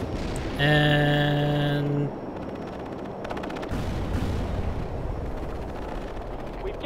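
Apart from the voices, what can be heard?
artillery strike explosions in the video game World in Conflict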